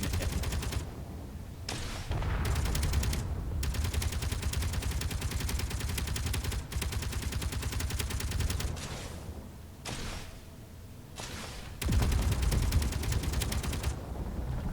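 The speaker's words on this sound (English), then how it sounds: "these 6 guns are just so devastating" Six guns fire in the video game Space Engineers as sustained rapid automatic bursts, dense and loud, broken by several short pauses before resuming.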